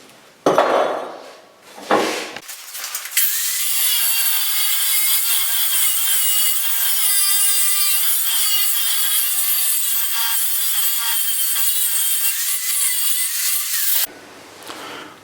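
A 1-1/2 inch steel tube is cut and trimmed to fit a tee joint, starting with a few short scraping strokes followed by a long, continuous, bright grinding rasp at close range that stops abruptly near the end.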